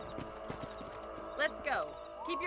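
Horse hooves clip-clop at a steady trot in the Red Dead Redemption video game, with a whinny and someone speaking over the hoofbeats.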